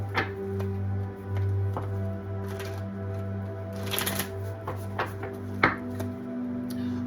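Oracle cards being shuffled by hand, a run of soft riffling flicks and taps against a steady low electrical hum, close and moderately loud with no voices.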